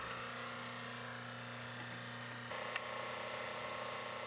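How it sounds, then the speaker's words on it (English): A water pump runs for RV black tank cleaning, giving a steady mechanical hum with a low drone that shifts slightly partway through, and one brief click near the end. "and then we're going to turn on our pump"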